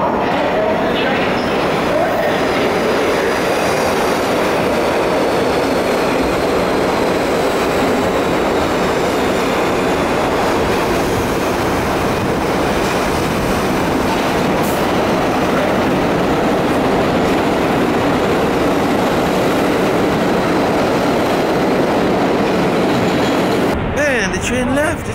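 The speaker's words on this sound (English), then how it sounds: "The train left, the train didn't stop." A New York City subway train rolls past a platform without stopping, a loud, steady rumble of rail noise filling the whole stretch with faint clatter, a brief squeal near the end, and voices faintly beneath it.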